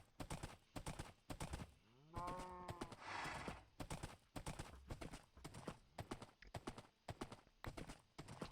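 Rapid, steady clip-clop of horse hooves in Minecraft, loud and close, running almost continuously with a brief pitched animal call partway through.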